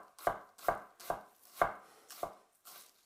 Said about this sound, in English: Chop that up as well.